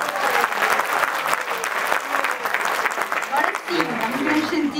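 An audience applauds at an International Mother Language Day and intercultural awards ceremony, dense sustained clapping from a crowd with a voice speaking through it toward the end.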